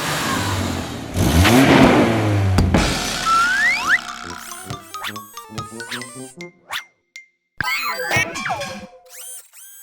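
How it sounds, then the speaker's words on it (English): A cartoon truck's engine revs loudly, a burst of roaring vroom followed by playful boing-like cartoon effects and brief sputters. "Let's have a nice loud rev."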